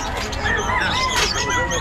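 Birds chirp and call among people at the Bocaue pet market, with a fowl-like squawk and high tweets set against a busy hum of voices and background bustle.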